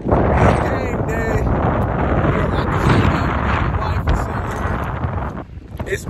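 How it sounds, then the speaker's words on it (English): Heavy wind buffets the microphone throughout, a loud continuous roaring rumble with gusts, while someone talks underneath outside the Dallas Cowboys stadium on game day. "It's windy, so if y'all can't hear me, my bad."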